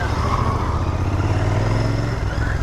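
A 2024 Royal Enfield Interceptor 650 motorcycle pulls away in first gear, its engine note loud and close, a steady throaty drone with a slowly rising pitch and no voices.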